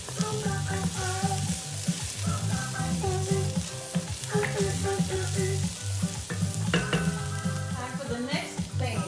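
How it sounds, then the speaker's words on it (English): Red rice with chicken andouille sizzles and frys in a pan while a spoon stirs and scrapes the bottom, steady and close, with upbeat music playing throughout. "You scrape up them bits in there."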